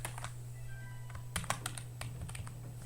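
Rapid keystrokes clatter on a computer keyboard while Python code is typed, a quick uneven run of close, crisp clicks with a couple of firmer taps and a steady background hum.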